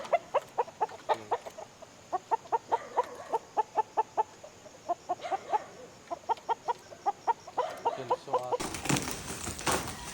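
An imported gamefowl rooster of a Cedar Creek line clucks in a steady run of short, evenly spaced calls, clear and fairly near, before a burst of broadband noise cuts in at the end.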